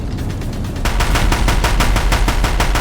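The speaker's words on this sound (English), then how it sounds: "If the Deathbringers keep firing" A Deathbringer gun fires in Horizon Zero Dawn, a rapid, loud stream of machine-gun bursts that grows louder and denser partway through and keeps a steady rhythm to the end.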